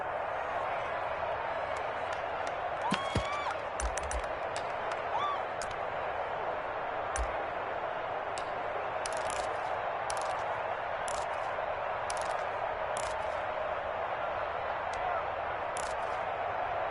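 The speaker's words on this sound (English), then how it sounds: "Here comes a big one as this crowd gets up making some noise." A large football stadium crowd in a PS4 video game roars in a dense, steady wash of noise, with scattered sharp pops and whistles cutting through.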